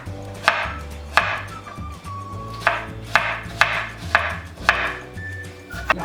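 Apples being finely chopped with a knife on a board, a steady series of crisp, close chops with short pauses between strokes and no talking.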